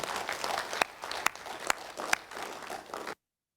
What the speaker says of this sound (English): May I ask you to give a hand of applause to the Secretariat